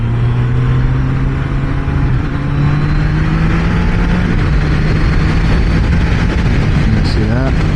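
Triumph Trident 660 three-cylinder motorcycle engine droning loudly and continuously while riding, pitch rising and falling through the gears with wind rush, a voice talking over it.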